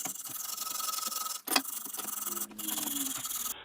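Harsh, continuous scrubbing and rasping of a wire brush on a metal brake caliper from a Honda Civic Type R, steady strokes with a couple of brief pauses.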